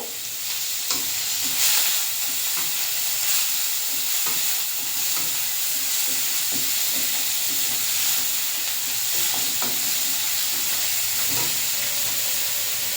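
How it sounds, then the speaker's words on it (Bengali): Onion sizzles steadily in hot oil, a constant loud frying hiss with occasional scraping stirs, no voices. "পেঁয়াজটা ভাজা করে নেব।"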